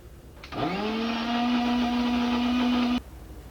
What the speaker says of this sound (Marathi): आता आपल्याला हे मिक्सरमधून फिरवून घ्यायचं आहे